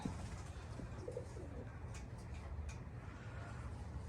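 Racing pigeons coo softly and intermittently, low and somewhat distant, over quiet background hiss.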